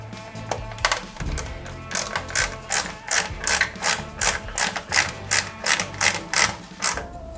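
A small screwdriver drives screws into the chassis of a Ford Gran Torino model car, a close series of quick ratcheting clicks in regular bursts after some brief handling noise, with no talking.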